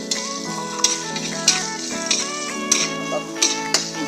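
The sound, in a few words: frying grated ginger in a pan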